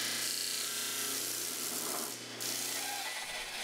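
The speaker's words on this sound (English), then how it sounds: "once I got that cut off, I flattened things back up over at the sander" Power sander flattening a wooden bandsaw box blank, a steady close whirring drone with a brief dip near the end.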